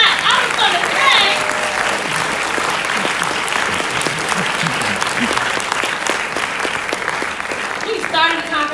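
Audience at a film Q&A bursts into sustained applause, steady clapping filling the room loudly for the whole stretch, with some cheering rising at the start and end.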